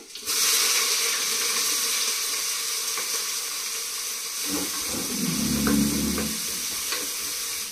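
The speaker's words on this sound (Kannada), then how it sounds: "ಬೆಳ್ಳುಳ್ಳಿ ಜಜ್ಕೊಂಡಿರೋದು, ಜೊತೆಗೆ ಸಣ್ಣದಾಗಿ ಕಟ್ ಮಾಡ್ಕೊಂಡಿರೋ ಈರುಳ್ಳಿ ಹಾಕ್ತಾ ಇದ್ದೀನಿ" Crushed garlic and finely chopped onion frying in a pan, a steady close sizzle with a few stirring clatters and a brief muffled knock partway through; nobody speaks.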